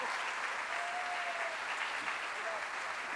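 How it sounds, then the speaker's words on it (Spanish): An audience at an institutional dialogue on participation guarantees gives steady, dense applause that holds at an even level for about three seconds, with faint voices mixed in. "Aplausos a María Rosa, que es muy guapa"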